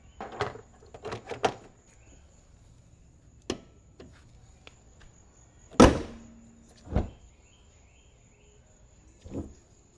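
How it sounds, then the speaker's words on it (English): The hood of a Mustang GT slams shut with one loud, sharp thud, preceded by a few light metallic clicks and followed by fainter knocks. "So let's just close the hood and make sure we can actually get the hood to close."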